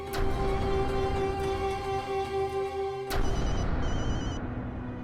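A telephone rings with a steady electronic trill, continuing for several seconds, close and clear with no talking.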